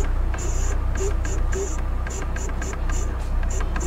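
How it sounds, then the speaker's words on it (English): A Lada Niva's power steering pump at full steering lock gives a steady mechanical hum with a high, buzzing whine that pulses on and off in short bursts, close up and without talk. "The power steering pump seems to make a weird buzzing sound when you turn the steering wheel on full lock"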